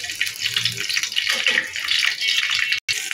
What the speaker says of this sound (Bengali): শুকনো মরিচগুলো একটু ভালোভাবে ভেজে নিই।